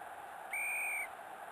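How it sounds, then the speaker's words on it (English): A referee's whistle in the soccer video game Olympic Soccer Atlanta 1996, one sustained shrill blast about half a second long, clear and upfront over a faint steady background hum. "The whistle goes, we're underway."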